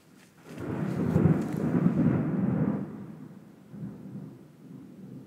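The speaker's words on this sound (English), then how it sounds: "they said thunderstorms rolling through Houston." A thunderstorm in Houston, with a deep rolling thunder clap that swells and rumbles for a few seconds before fading into softer rain and a fainter second rumble.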